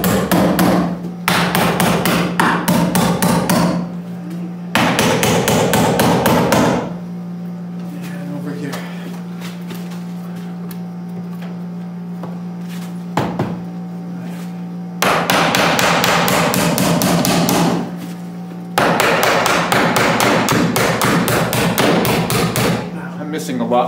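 A hammer pounds during homestead construction while a window is temporarily fixed in place, coming in loud, close bursts of rapid repeated strikes separated by quieter pauses.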